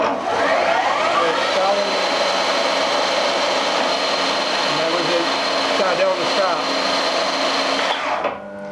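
A machine tool motor and gearbox whir loudly and continuously as the gearbox changes gear, with shifting whines and rattles in the mechanical drone before it winds down at the end; a voice speaks over the machinery.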